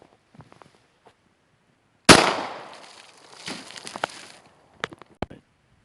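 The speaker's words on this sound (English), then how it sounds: "So this is a Glock 10 millimeter, 4th generation." A single sharp gunshot from a Glock 10mm fourth-generation handgun at an outdoor range, loud and close, with a ringing decay, then a few faint clicks and knocks.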